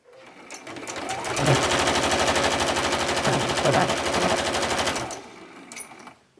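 A sewing machine runs a steady, rapid stitch along a fabric-bin seam of two fat quarters, starting with a short back stitch; the dense motor whir rises quickly, holds loud and even for several seconds, then cuts off.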